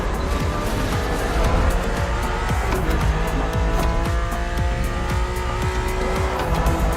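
A BMW Z4 E89 in The Crew drives with a steady, loud engine hum and repeated tire squeals, the sound sustained and close throughout with no talking.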